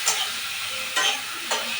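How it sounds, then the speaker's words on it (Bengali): Spice paste with cumin powder and a little water frying in a pan, a soft sizzle punctuated by three quick stirring scrapes, close and moderately loud. "অল্প জল দিয়ে একটু মশলাটা ভেজে নিলাম"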